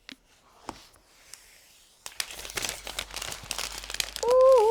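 Protective plastic film being peeled off a new 2021 12.9-inch iPad Pro M1, starting with a few quiet ticks, then building into close, crinkly, crackling peeling, with a brief squeaky tone near the end.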